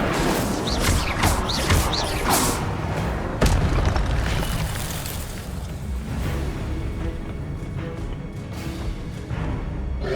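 Repeated booming fire blasts and crashes from the Incendio spell in the video game Hogwarts Legacy, loud and dense, several bursts in quick succession over a constant rumbling combat din.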